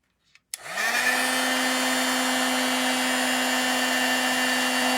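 An electric embossing heat tool melting embossing powder on a wooden home-décor craft piece clicks on and then blows with a constant loud whirring hum, no speech.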